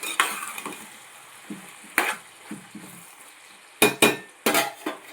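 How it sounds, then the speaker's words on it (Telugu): A spoon stirs tomato pieces into a brinjal and raw prawn curry in a pan, with soft scraping and a few sharp metallic clatters in irregular bursts, close and fairly loud. "టమాటా ముక్కలు వేసుకున్న తర్వాత ఒకసారి మొత్తం కలుపుకోవాలండి"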